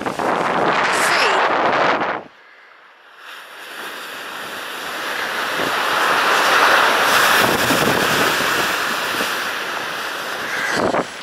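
Sea waves break and wash steadily along Bossington Beach, a loud broad surf roar with gusting wind buffeting the microphone, briefly dropping away before the surf swells back up.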